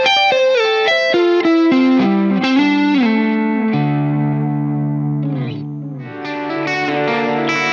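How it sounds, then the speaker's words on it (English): Electric guitar played through the analog delay effect of a Fender Tone Master Pro, melodic sustained notes with trailing repeats, loud and continuous with no talking. "including the analog delay"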